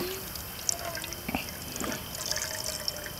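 Water poured and trickling at a campsite in Rock Point Provincial Park, with soft drips and splashes over steady outdoor background noise, fairly quiet and close.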